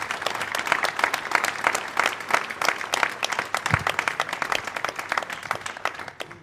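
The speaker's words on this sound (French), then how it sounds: "je vous demande de l'applaudir pour l'encourager dans cette démarche" Audience at a public meeting for the La Rochelle municipal elections applauds a speaker, sustained, crisp clapping from many hands lasting several seconds at an even level.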